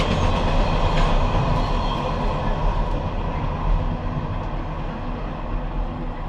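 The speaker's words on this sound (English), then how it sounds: "And that's a good train because it's really long." A long train rumbles past a canal mooring with a loud, steady, continuous roll and faint clatter, fading slightly toward the end.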